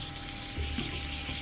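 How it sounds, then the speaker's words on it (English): Lithium metal reacts in a glass of water, giving a continuous close fizzing and bubbling hiss with a slight swell midway and no voices. "here's what happens to lithium if you put it in a glass of water"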